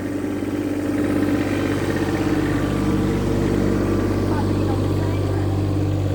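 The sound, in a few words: mini digger slowly spinning around on its tracks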